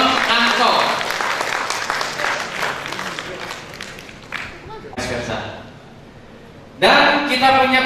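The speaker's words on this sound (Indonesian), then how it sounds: "Tepuk tangan untuk Don Anko." An audience at a security conference applauds, a busy burst of clapping that gradually fades, followed by a brief lull and then a voice speaking loudly into a microphone.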